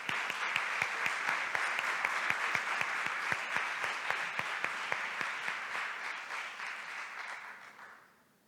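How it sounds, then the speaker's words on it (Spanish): Steady audience applause at an awards event, dense, even clapping held for several seconds before fading out at the end. "Un aplauso."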